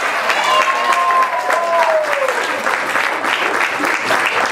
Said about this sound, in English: How about another big round of applause for our best man?